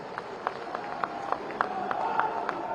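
Crowd at a BJP felicitation ceremony honouring national president Nitin Nabin claps together in a steady, rhythmic beat of sharp strikes, moderately loud, over a continuous background murmur.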